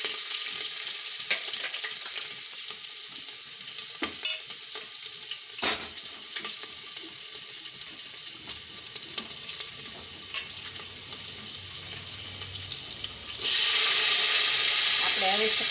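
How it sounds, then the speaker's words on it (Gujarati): Ginger, chilli and tempering spices sizzling in hot oil for a sweet potato curry, a continuous close frying hiss with stirring clinks, later joined by a louder rush of running water. "આપણે વઘાણી નાખી દઈએ"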